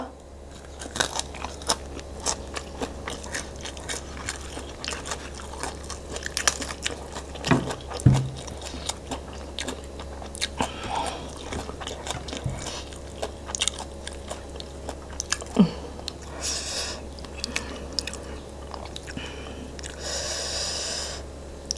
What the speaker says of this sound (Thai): กินมือเนี่ยแหละกินมืออร่อยสุดแล้ว